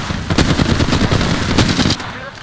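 Rapid automatic gunfire in the Apex Legends battle royale, a loud dense burst of repeated shots lasting about two seconds before easing off.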